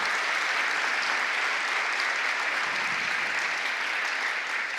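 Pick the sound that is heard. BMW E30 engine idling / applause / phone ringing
applause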